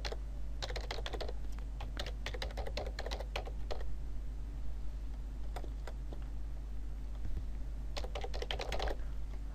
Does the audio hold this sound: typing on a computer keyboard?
yes